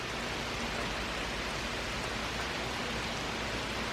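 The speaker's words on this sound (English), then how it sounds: "it's just a nice steady rain" Steady rain falls in a continuous, even hiss with no breaks or downpours, and no other sounds stand out.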